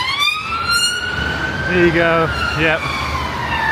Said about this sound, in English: Sorry about the noise, it's another ambulance has gone by.